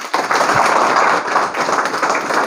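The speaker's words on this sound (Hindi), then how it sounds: "मैं चाहता हूं एक बार अरुण कुमार शर्मा सर के लिए जोरदार ताली" An audience applauding loudly for an honoured guest at a company business presentation, a steady dense wash of claps that fills the whole clip without letting up.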